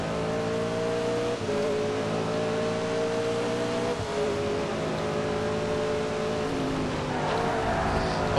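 A V8 supercar engine held at full throttle in the racing game Race Driver 3, a loud, continuous high-pitched roar with steady engine harmonics and brief dips as gears shift, running throughout with no talk.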